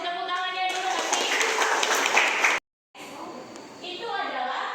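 Students in a mathematics class clap their hands together in a brief burst, heard under an ongoing voice talking, followed by a short gap of silence and more speech.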